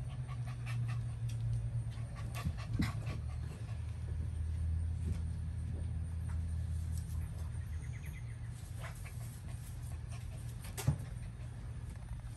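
A dog pants steadily and close over a continuous low rumble, like a car interior, with a brief louder knock near the end and no talk.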